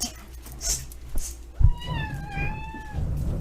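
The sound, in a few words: pet cat meowing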